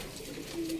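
A pigeon gives a soft, low coo close by, a single short call at moderate volume over faint background noise.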